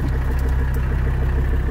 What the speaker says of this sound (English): the exhaust note on this is kind of cool